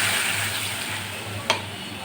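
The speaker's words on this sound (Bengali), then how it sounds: "পেঁয়াজ আর আলু ভাজা হয়ে গেছে, এবার আমি মশলাটা দিয়ে দিলাম।" Onions and potatoes fry with spices in a pan for a fish curry, giving a soft steady sizzle with one brief clink partway through.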